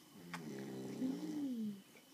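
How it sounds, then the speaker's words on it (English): An elderly grandfather snores loudly with one long, rumbling, throaty breath close by, the tone rising and falling before trailing off. "That's some loud snoring."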